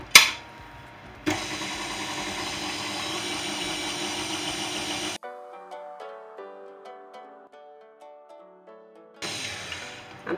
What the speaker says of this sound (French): Et on va faire démarrer le robot.